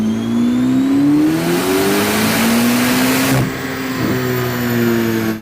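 Chevrolet Corvette C8 ZR1 engine run hard on a chassis dyno, a loud, sustained high-revving roar that climbs steadily in pitch, briefly drops, then holds high again before cutting off, with no talking.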